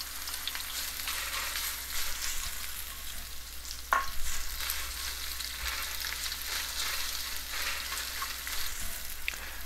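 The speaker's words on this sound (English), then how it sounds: "I'm going to add my curry leaves" Curry leaves hit hot oil in a wok for an okra stir-fry, a sharp crackle bursting up at one point, then a continuous sizzle with occasional pops and no talking.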